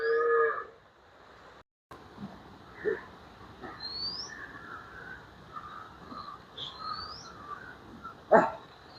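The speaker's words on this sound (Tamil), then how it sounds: "மாடுகள் பட்டிலிருந்து வெளியில் வருது ஒவ்வொன்று ஒன்றா அப்படியே வெளிக்கிட்டு வருது" Cattle leave their pen one by one outdoors, giving a few scattered low moos and rustles amid birdsong and a dog's bark, with a louder thump near the end.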